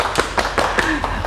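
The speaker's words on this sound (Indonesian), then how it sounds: "semuanya tepuk tangan untuk Propan ya" Scattered hand clapping from a small audience honoring the Propan paint company, several separate claps spaced unevenly, with voices murmuring underneath.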